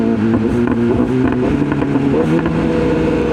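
A 2017 BMW S1000R motorcycle pulls hard in sixth gear, its engine a loud, close, steady drone with layered harmonic tones that climb slightly as it accelerates.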